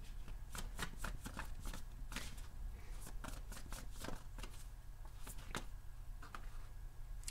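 Tarot cards shuffled and flipped in a steady run of crisp riffles and soft slaps, close up, with a low background hum and no talking.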